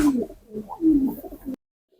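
Pigeons at a pigeon farm give a short, throaty coo in a few close, rolling pulses that cut off abruptly into silence.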